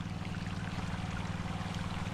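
Water pours steadily onto the ground at the base of a tree in a yard, a constant loud gushing wash with no pauses.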